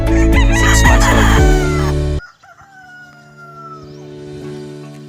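Six-month-old game fowl stags crow on a farm: one loud, close, drawn-out cock-a-doodle-doo fills the first two seconds, then fainter crows carry from birds farther off.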